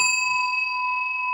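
A doorbell in the horror video game Suite776 sounds a single clear, ringing chime that holds steady and sustained, close and alone.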